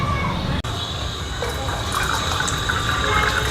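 Water gushes steadily into a copper pot being filled, a continuous close splashing rush that runs without break.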